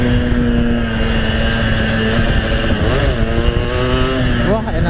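A Yamaha RX King two-stroke motorcycle from around the 2000s revs hard at full throttle, its engine tone climbing in surges close up, with people talking over it.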